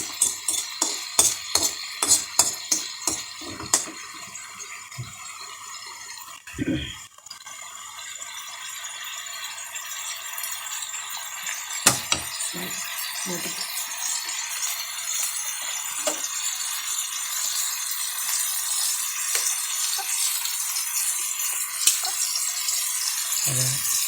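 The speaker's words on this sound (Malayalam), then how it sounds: "പക്ഷെ നന്നായിട്ടൊന്ന് ഇളക്കി കൊടുക്കാം." Food is stirred in a cooking pan with salt added, giving a run of quick metallic scrapes and rattles at first, then scattered scrapes over a steady sizzle.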